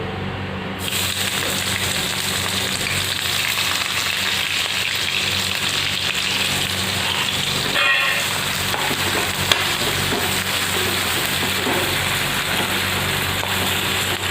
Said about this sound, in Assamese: পিঁয়াজখিনি দি অকণমান লৰাই লৈছোঁ, চৌতে কৰিছোঁ ক'বলৈ গ'লে